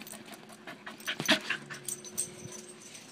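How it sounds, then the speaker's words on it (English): A dog whimpers and pants close by, with short yips and sniffs over a quiet room. "Your dog's trying to tell you something."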